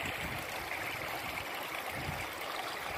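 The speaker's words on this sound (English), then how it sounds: "What a nice creek right in the top of the mountain, on the top of Mount San Jacinto." A small mountain creek near the top of Mount San Jacinto rushes and splashes steadily, close and continuous, a full broadband wash of flowing water with no voices.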